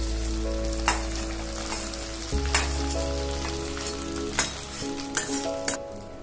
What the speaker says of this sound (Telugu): పోపు వేసేద్దాం